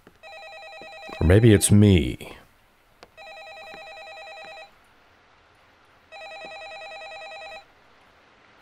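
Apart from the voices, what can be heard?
telephone ringing in a horror video game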